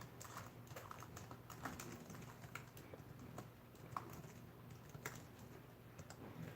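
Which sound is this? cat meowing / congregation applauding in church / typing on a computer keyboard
typing on a computer keyboard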